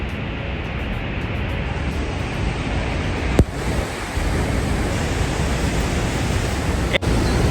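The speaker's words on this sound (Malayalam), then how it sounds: "എത്രത്തോളം ശക്തിയിലാണ് ആ വെള്ളം വരുന്നത് എന്നുള്ളത് ഇത്ര അടുത്ത് കാണുമ്പോൾ ശരിക്കും നല്ല അടിപൊളിയായിട്ടുണ്ട്" Niagara Falls in Canada heard from below: a steady, loud, broadband roar of falling water, continuous throughout with a couple of brief clicks, no voices.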